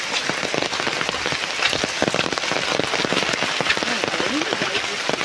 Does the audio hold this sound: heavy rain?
yes